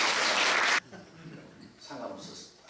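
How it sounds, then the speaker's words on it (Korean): A church congregation at a retreat opening worship service applauds to welcome a pastor, with a burst of clapping that stops abruptly, followed by quieter sounds and a voice. "박수로 환영하겠습니다."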